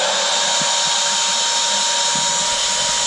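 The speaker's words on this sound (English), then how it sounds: "He's grinding his valves, lapping them in." Hand lapping of valves on a Chevy 4.3L cylinder head, a continuous gritty hiss of abrasive rubbing that stays loud and even, with a few soft low knocks and no voices.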